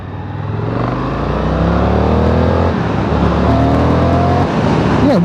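An Indian FTR1200 motorcycle pulls hard in second gear in rain mode, its engine note climbing steadily and loudly through the revs as it accelerates, heard close with no talking.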